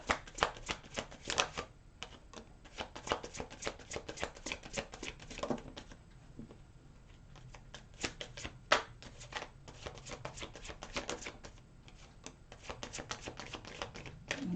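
Tarot cards being shuffled by hand in rapid riffling bursts, crisp and close, with brief pauses between runs.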